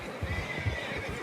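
Short horse whinny in Red Dead Redemption 2 against a busy ambient background, brief and moderately distant, with faint hoof-like thumps beneath.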